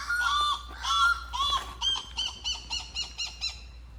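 A goose honks loudly nearby: three drawn-out calls, then a rapid run of shorter, evenly spaced honks.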